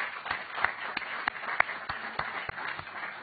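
A small audience at a grantee seminar gives sparse, scattered applause, a handful of distinct, evenly spaced claps rather than a full ovation, fairly quiet and with no talk over it.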